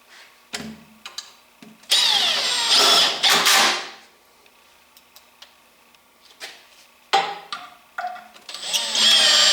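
Power drill toenailing 3-inch screws into a wooden joist of a reloading bench: two clusters of loud, short whirring bursts separated by near silence, with quieter clicks and taps between them.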